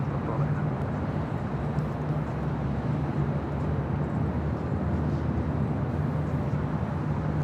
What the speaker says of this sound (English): Also see EVA Air, Air, the 777-300ER heading back to Taipei